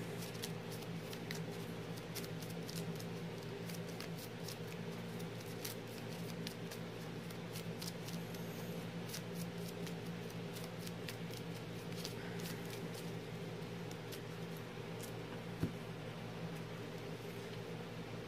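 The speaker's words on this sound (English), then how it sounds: "I'm going to shuffle those 6 back into the deck." Pokémon trading cards are shuffled back into a deck, making a long stretch of quick, soft, rapid riffling clicks over a steady low background hum, close and fairly quiet.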